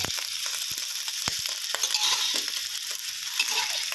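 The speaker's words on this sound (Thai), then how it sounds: "ผัดไปเรื่อยๆนะครับผมอ่านี่ครับผัด ผักเริ่มยุบตัวนะครับ" Mixed vegetables and chicken stir-fried in a pan with plenty of liquid, a continuous close sizzle with occasional spatula scrapes and clacks, no voices.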